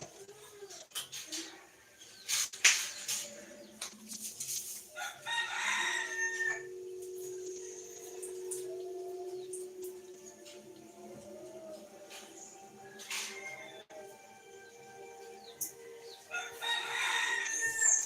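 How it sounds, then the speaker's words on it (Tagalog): Roosters crow repeatedly at a distance, with clucking chickens in between, several birds calling over a quiet background. "Ang daming manok"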